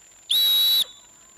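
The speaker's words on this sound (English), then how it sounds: "Resume my whistle." A referee blows one sharp, loud whistle blast lasting about half a second to restart play in a quadball match, a clean shrill tone standing alone against quiet background.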